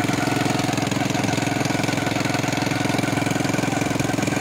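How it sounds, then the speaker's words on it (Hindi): A motorcycle engine powers a homemade jugaad machine, running at a steady, fast, evenly pulsing chug with a faint knocking rhythm, close and continuous from start to finish without pauses. "मोटरसाइकिल स्टार्ट कर देते हैं"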